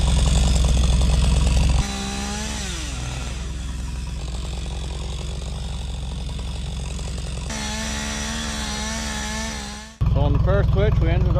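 A chainsaw bucks felled logs into 12- and 16-foot lengths, its engine roaring loud and close, dropping to a steadier cutting drone, then revving hard again in bursts.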